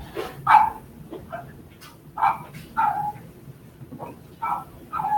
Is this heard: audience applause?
no